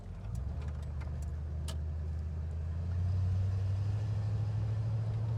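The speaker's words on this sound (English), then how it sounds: "But I love the sound from the dual exhaust." Dual exhaust of a Chevy Caprice Classic convertible barn find: a steady, deep engine rumble close by that swells slightly louder partway through, with no talk over it.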